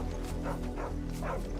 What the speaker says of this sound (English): It's a dog barking.